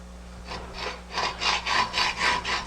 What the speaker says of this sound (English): I'll just cut right through here, making a double width cut with the double hacksaw blades.